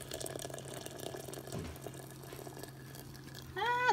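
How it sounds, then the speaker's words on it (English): Boiling water poured from a kettle over tea bags for afternoon tea, a soft steady splash and trickle close by, ending with a brief rising whistle-like tone. "So let's pour some boiling water."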